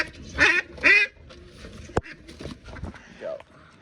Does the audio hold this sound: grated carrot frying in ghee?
no